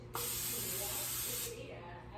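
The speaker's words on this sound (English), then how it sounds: "so you just give a light spritz of" A spray bottle gives a single light spritz, a close, soft hiss lasting just over a second, while baking white bread.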